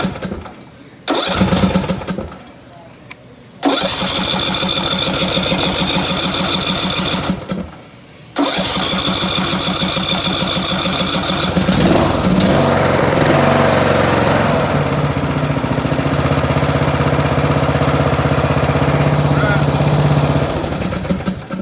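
A Briggs and Stratton small engine is cranked in a few loud bursts, then catches and runs steadily close by, settling into a rough idle as the throttle is adjusted.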